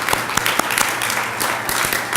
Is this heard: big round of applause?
yes